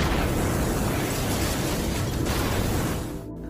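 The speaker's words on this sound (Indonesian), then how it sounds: "granat meledakkan tempat itu beserta para zombie" Grenade explosion blasting a place overrun with zombies: a loud, sustained roaring blast with dense rumbling debris, fading into a brief tail near the end.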